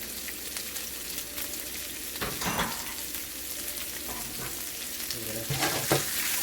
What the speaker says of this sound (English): saute them nicely